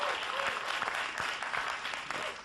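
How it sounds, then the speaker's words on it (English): A conference audience claps throughout, with dense, fairly loud, continuous applause from many people in a room and no other sound standing out. "Why are you clapping?"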